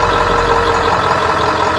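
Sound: truck engine running while charging Bluetti AC200

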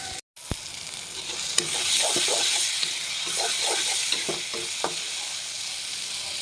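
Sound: dried fish frying in a pan

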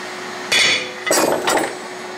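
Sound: hammering a transfer punch to mark motor base

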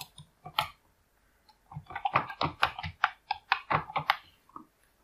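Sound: typing a password on a computer keyboard

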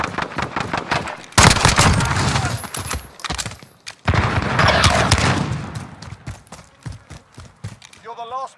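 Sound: gunfire in Call of Duty Modern Warfare video game

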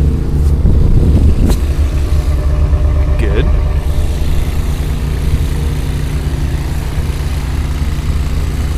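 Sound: car engine being cranked in blizzard snow

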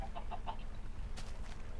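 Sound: chicken clucking in Minecraft video game

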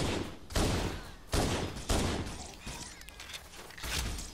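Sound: gunfire at an Elite in the video game Halo CE

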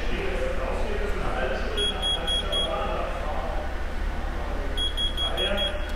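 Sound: frunk motor control beeping

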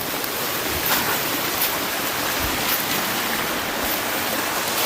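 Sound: waterfall

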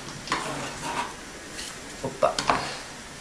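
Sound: stirring the mixture for açorda alentejana bread soup

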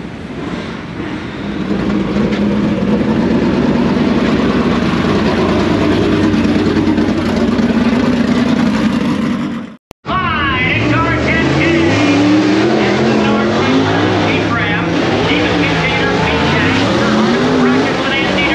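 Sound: race car rolling out for qualifying

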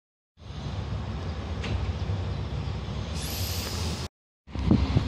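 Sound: Czech Railways passenger train departing Beroun station

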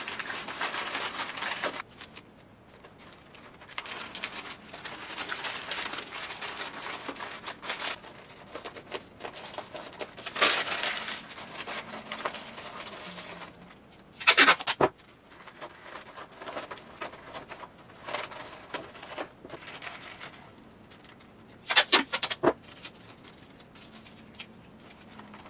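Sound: wide masking tape handled while padding a paper mache raccoon

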